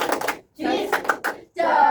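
A classroom of students performs a rhythmic "tepuk justice" clapping chant, short bursts of hand claps and voices in patterned groups separated by brief pauses, close and fairly loud.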